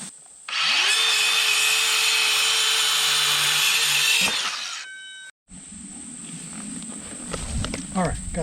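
A power saw with a shallow cut depth, about 1.5 inches, rips through wooden boards outdoors in the woods for a treehouse stand. It gives one loud, sustained whining cut of around four seconds, then winds down, followed by quieter rustling and handling noise.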